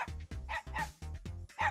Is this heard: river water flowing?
no